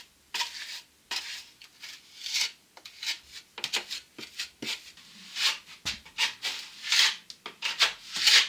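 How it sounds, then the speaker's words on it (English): A plastering trowel rubs over fresh filling plaster on a loft conversion wall, producing repeated rasping scrapes in uneven strokes, close and fairly loud, with brief pauses between passes and no talking. "Let's try it with this trowel"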